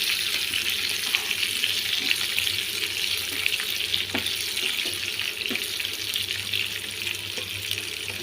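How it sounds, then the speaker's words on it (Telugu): Spices and green chillies for a tempering fry in hot oil, giving a steady, dense sizzle with scattered faint pops and a few clinks of a stirring utensil. "ఈ పోపు కొంచెం వేగాలండి."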